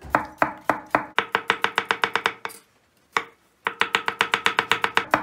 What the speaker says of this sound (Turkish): Patateslerimizi 3'e 4'e böldükten sonra bıçakla şöyle ince ince doğrayacağız.